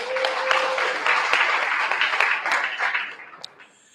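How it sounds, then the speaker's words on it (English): A crowd applauds a team at an Apple Watch hackathon presentation: dense, sustained clapping from many hands that holds steady, then tapers off near the end with a few last claps. "So big round of applause for them."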